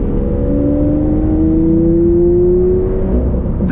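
Lamborghini Aventador SV V12 engine heard from inside the cabin, a loud, continuous droning roar with a steadily rising whine as revs climb, no talking over it.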